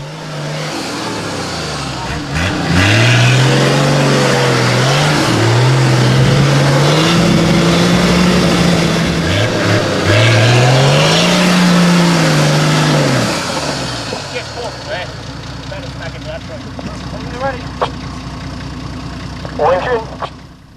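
A 4WD vehicle's engine revs hard and loud on a muddy track, rising and falling in long surging climbs for about thirteen seconds, then drops to a low idle with faint scattered knocks.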